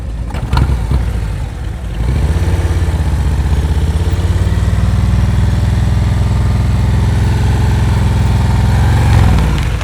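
A motorcycle rolls along at slow speed during a riding skills practice session and brings itself to a smooth stop, its engine droning loud and steady throughout after a brief rough start.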